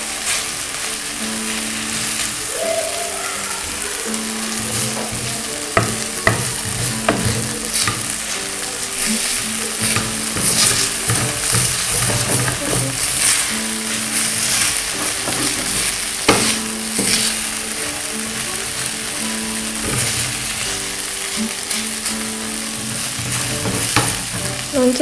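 Potatoes fry in oil in a pan, giving a constant close sizzle with frequent spatula scrapes and stirring clatter that comes and goes through the whole stretch.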